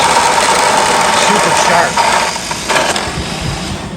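A WORX JawSaw electric chainsaw cutting through broken-up wood, a loud continuous high whine with brief dips in pitch as the chain bites, close to the listener.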